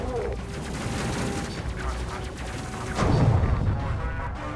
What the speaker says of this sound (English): Switch the autocannon so that way you have a better chance of actually killing him quickly.